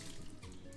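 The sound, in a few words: wringing water out of a cleaning cloth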